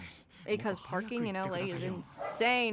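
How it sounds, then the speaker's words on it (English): A dog barks and whimpers in a hallway at home, a few yips and bow-wows mixed in under someone talking, fairly faint against his voice. "If you hear barking, that's my dog."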